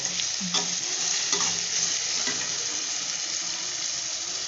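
Onions and coriander sautéing in oil in a pan for a rock fish curry, a steady close sizzle with a few light stirring clinks and scrapes, no talk.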